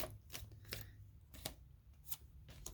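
Quiet riffling bursts of tarot cards being shuffled, several short crisp flutters spaced irregularly, close by.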